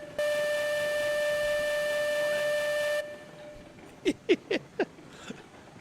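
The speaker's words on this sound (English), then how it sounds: "All right, blow that whistle." A steam locomotive whistle in the railroad game Railroads Online blows one loud, steady, multi-toned blast lasting about three seconds, then stops abruptly. Several short bursts of people talking and laughing follow.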